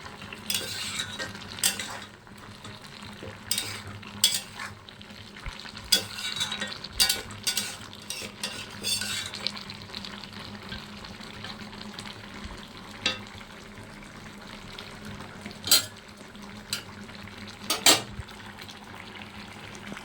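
Shukto vegetable curry frying in a pan, with a soft steady sizzle beneath irregular scraping and clinking of a spoon stirring against the metal, close by and alone.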